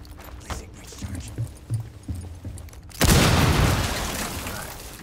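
Shotgun fire in the video game Rainbow Six Siege: a few soft thumps and muffled game noises, then one sudden loud blast that rings out and slowly decays over the final two seconds.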